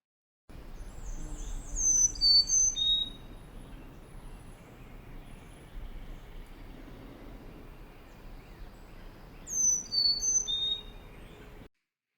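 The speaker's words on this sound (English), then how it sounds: "A mnemonic that you might use to help remember this is Chickadee, Chickadee." A chickadee calls in a quiet outdoor setting, giving short high chirps in two clear bursts several seconds apart over faint background noise, with no voices.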